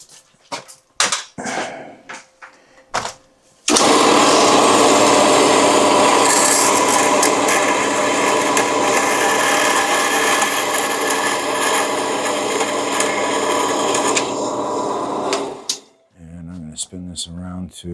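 A part is cut during a Traxxas XRT RC truck rebuild, a loud continuous grinding rasp lasting about twelve seconds, close up, with brief talk and clatter before and after.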